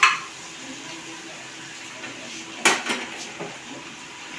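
Ginger garlic paste gets stirred in oil in a pan, heard as a few sharp metal spoon clinks and scrapes against the pan over a faint background hiss.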